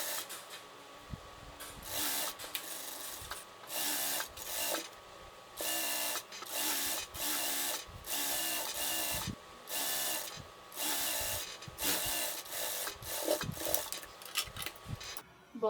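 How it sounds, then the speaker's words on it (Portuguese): Straight-stitch sewing machine running along a shirt hem, its fast whirring stitch rattle coming in repeated bursts of a second or so, separated by short pauses and soft handling noises. "passar uma costura na máquina reta"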